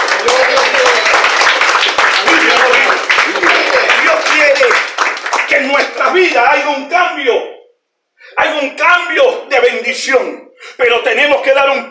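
A church congregation claps loudly for several seconds during a sermon, the sharp dense clapping giving way to a preacher's excited voice that continues in bursts with brief pauses.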